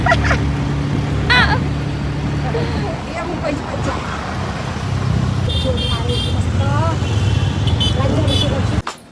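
Riding in the front seat of an auto rickshaw, with a steady engine drone and road traffic noise throughout, a few horn toots, and people talking over the ride.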